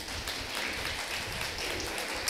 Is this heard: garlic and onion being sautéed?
no